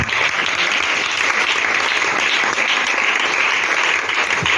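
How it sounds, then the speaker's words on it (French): A church congregation applauds steadily throughout, a dense, continuous wash of clapping from many hands with no pauses and no voices standing out. "Acclamons la présence de Jésus dans notre vie."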